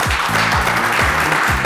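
A television game show audience applauds steadily and loudly, with no break. Repeated low, falling musical tones play underneath the clapping.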